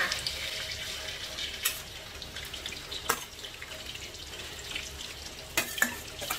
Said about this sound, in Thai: น้ำมันร้อนนะคะใส่ไก่ลงไปทอดเลยค่ะ